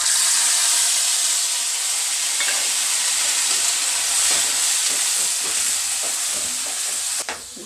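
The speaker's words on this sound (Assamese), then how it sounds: "এতিয়া মছলা দি দিওঁ।" Spice masala hits hot oil with browned fenugreek seeds for a small-fish Assamese dish, giving a loud, close, steady hiss and sizzle that fades slightly near the end.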